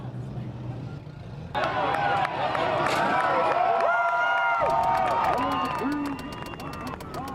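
Six-cylinder cars at a demolition derby rev and roar, with rising and falling engine tones over crowd cheering, whistles and shouting.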